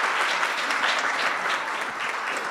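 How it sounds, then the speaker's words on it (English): Audience applause for a distinguished panel at a university teaching and learning conference, a dense steady wash of many hands clapping at once, loud and sustained throughout with no voices breaking through. "I would like you to please give them a round of applause."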